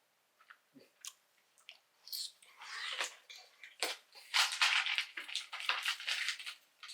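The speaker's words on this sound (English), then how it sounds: "I'm going to start filling my mouth with chewing gum until I can no longer say my alphabet." A mouth crammed with chewing gum chews wetly and noisily up close, starting with sparse smacks and squelches, then building into dense, continuous sticky chomping and squishing that grows louder toward the end.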